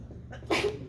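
Someone in a math lecture sneezes once: a short, sudden burst over the quiet murmur of the room.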